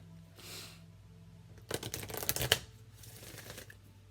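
Cards from an Enchanted Map Oracle deck shuffled in a short papery riffling burst, faint and close, with quiet handling noises before and after and no talking.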